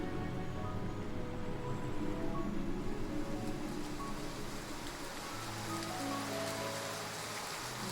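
Rain falls in the fantasy video game Love and DeepSpace as a steady, even patter across surfaces. Soft tonal game music plays underneath throughout.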